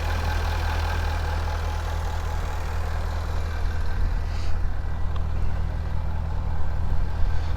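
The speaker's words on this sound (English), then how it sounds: "Here's our 5-liter supercharged V8." A 2017 Jaguar F-Type SVR's supercharged 5-liter V8 idles close by, a steady deep rumble with a constant low drone and a faint high whine over it, even and unbroken.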